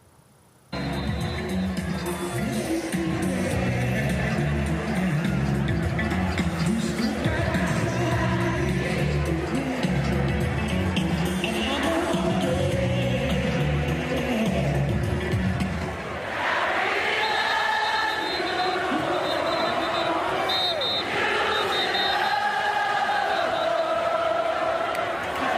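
A huge crowd of some 30,000 fans at a Jackson State football game roars continuously, with chanting and cheering swelling loudly, a band-like rhythmic pulse in the first half giving way to brighter whoops and shouts.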